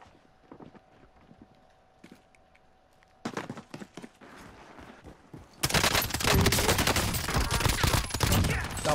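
Gunfire from a first-person shooter video game: sparse single shots and footsteps at first, then bursts, ending in sustained loud automatic fire that fills the last few seconds.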